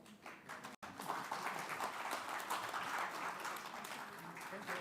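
Conference audience applauding after a token presentation to an ambassador at the Indian Ocean Conference in the Maldives, a dense steady wash of many hands clapping that continues for the whole stretch apart from one brief dropout near the start.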